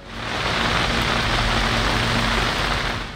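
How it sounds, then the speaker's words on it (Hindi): Heavy monsoon rain pours down in Punjab and Azad Kashmir, Pakistan, a dense, steady hiss of downpour filling the whole stretch without pauses or voices. "और आजाद कश्मीर में बारिश से जलथल एक हो गया"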